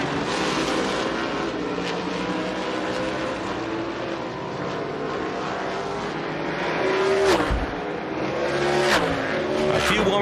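Winged sprint cars roaring around a dirt oval during a heat race, a dense continuous engine howl with passing surges and a crowd-like wash, loud and close under an announcer's commentary.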